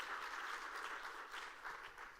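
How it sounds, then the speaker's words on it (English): A conference audience at a food summit applauds in a steady, dense wash of clapping, soft and somewhat distant, holding without a break for the whole short stretch. "Round of applause, please."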